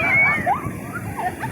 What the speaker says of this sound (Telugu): మస్తు అలలు వస్తున్నాయండి.